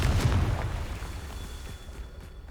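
A Confringo fire-spell blast in Hogwarts Legacy booms loudly at the start, then its rumble slowly decays into a dull roar, with no voices over it.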